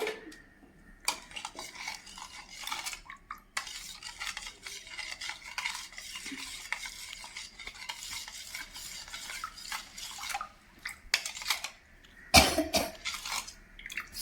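A spoon stirs sugar into a chilled homemade summer fruit juice, giving soft repeated scraping and clinking against the vessel at close range, with a brief louder clatter near the end and no talking.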